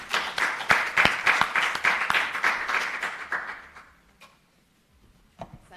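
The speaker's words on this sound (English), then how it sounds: "Please give them all a round of applause." Audience applause at a university innovation showcase in South Africa, a few seconds of lively clapping that thins out and fades, then a brief scattered clap near the end.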